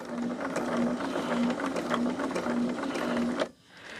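Sewing machine topstitching a zipper end into a fabric pouch tab at an eighth-inch seam, a rapid steady mechanical stitching whir up close that stops abruptly near the end.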